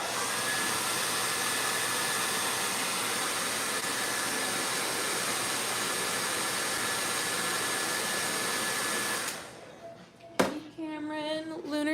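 A hair dryer roars loud and steady for about nine seconds drying paint on a painting, then cuts off and a voice begins talking.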